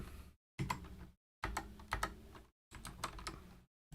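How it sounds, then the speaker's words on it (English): Bursts of typing on a computer keyboard, three clusters of rapid key clicks separated by short silences, close and clear with no talking. "I type it correctly"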